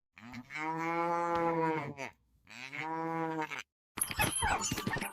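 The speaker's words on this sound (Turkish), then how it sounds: "Bu bir inek. İngilizce karşılığı cow." Two long, close cow moos, the second slightly shorter, followed by a brief burst of rustling noise after a short pause.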